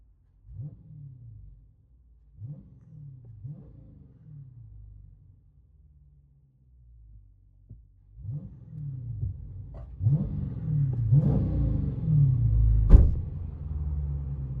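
A Dodge Challenger 6.4L HEMI SRT V8 with a loud aftermarket exhaust idles low, then revs in several short throaty bursts, building to a louder sustained rumble with sharp blips, heard from inside the cabin.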